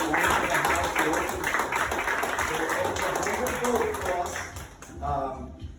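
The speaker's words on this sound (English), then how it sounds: "give me a round of applause for Tim and Danny who are around here" A gathered audience at a residential house tour applauds the owners. The clapping is a fairly quiet, even patter that goes on for several seconds and then tapers off.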